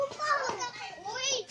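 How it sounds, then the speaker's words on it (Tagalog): Children playing noisily outdoors near a mountainside family home, with high, excited kid voices shouting and chattering close by in a brief, lively burst. "Maingay dito, mga bata."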